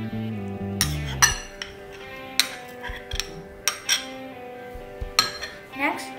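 Shredded cabbage and onion tossed together in a bowl for a sandwich filling: a spoon knocks and clinks against the dish in irregular, close taps over soft background music.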